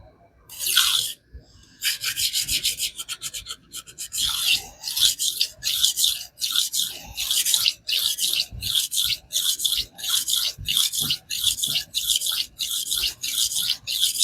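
A kitchen knife is sharpened on a THLEITE whetstone, rapid close rasping strokes in a steady back-and-forth rhythm with a brief pause near the start, repeated many times.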